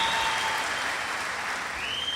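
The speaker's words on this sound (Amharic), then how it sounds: "አጨብጭቡለት።" An audience applauds a young man with a steady wash of clapping that is fairly faint and carries on throughout, with no voices over it.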